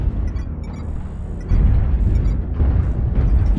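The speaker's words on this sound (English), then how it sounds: "Artillery strike activated." Rumbling artillery strike explosions in a sci-fi mining video game roll in as continuous low booms, with a heavier blast arriving midway and dense, loud rumble sustained to the end.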